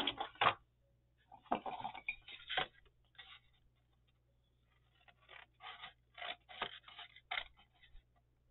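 Scissors cutting paper for a small Christmas pocket folio mini journal, a few quiet close snips and scrapes in short irregular bursts separated by silence.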